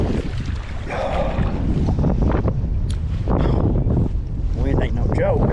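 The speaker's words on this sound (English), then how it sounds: "This wind ain't no joke today, y'all" Strong winter wind buffets the microphone beside a lake while fishing, a loud, continuous rumble with water sounds and someone talking through it.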